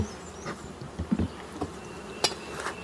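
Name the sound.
honeybees buzzing in a hive under the inner cover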